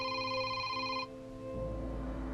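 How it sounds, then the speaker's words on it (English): A telephone rings late at night with a steady, bright bell-like ring that holds for about a second, then gives way to a low droning hum. "Late that night, her phone rang."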